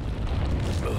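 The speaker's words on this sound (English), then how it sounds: "I'll use some grenades." Grenade blast in Resident Evil 4 on PC, a dense, sustained low rumble that fills the whole second with no clear attack or silence around it, heavy and close.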